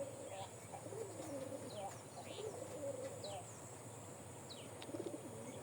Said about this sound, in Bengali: খাবার খাইতে চলে আসছে এই কবুতরটা